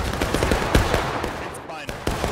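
Musket gunfire rings out in a multiplayer battle video game, a rapid ragged volley of overlapping cracks close by under constant battlefield noise.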